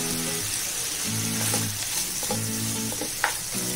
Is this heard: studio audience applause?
no